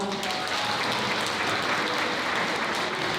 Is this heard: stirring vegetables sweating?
no